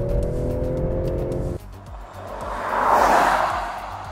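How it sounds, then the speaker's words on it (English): A 2023 Range Rover Sport holds a steady engine drone, then after a brief shift pulses into a rising snarl as it accelerates, heard from inside the cabin. "It's got this very satisfying snarl that's partly piped in through the speakers."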